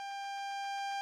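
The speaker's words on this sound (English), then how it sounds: "That alarm is the AWS self-test system." The AWS self-test alarm sounds in the cab of a Class 166 train in Train Sim World: a steady electronic tone with a bright harmonic ring, pulsing in rapid regular beats and holding level for the full second, alone.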